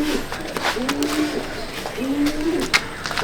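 Several pigeons, fancy loft birds offered for sale, coo in low, rolling calls that rise and fall in two clear phrases, close by over a busy background of rustling and faint voices.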